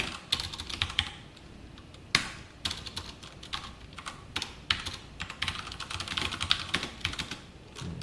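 Java code being typed on a computer keyboard, with quick bursts of close, crisp key clicks and short pauses between words.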